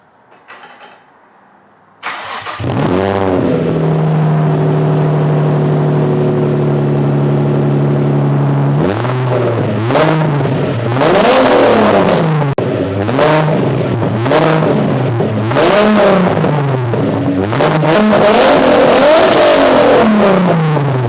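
A Nissan 350Z fitted with a new Greddy exhaust cranks and fires up, settles into a loud rumbling idle, then is revved hard several times in quick rising and falling bursts, heard close.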